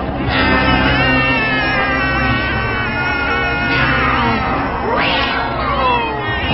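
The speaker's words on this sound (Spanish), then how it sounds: "¿por qué tenían que ser gatos?" A chorus of cartoon cats meows and yowls loudly and continuously, with overlapping drawn-out caterwauls rising and falling and one sharp, rising howl near the end.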